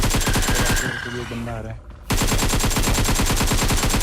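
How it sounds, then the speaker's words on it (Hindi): Rapid automatic gunfire in PUBG Mobile, loud and close, rattles in quick repeated bursts, breaks off for about a second while someone talks, then resumes just as dense. "वो कीड़े पे गोली चला रहा है"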